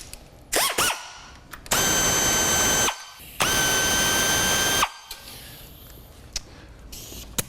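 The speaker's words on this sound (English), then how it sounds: "I'm going to go ahead and remove the 4 screws that bolt it to the top of the transmission case." Power tool driving out the screws that bolt a part to the top of a 5-speed transmission case: two loud, steady whirring bursts of about a second and a half each, framed by short clicks and handling clatter, with no voices.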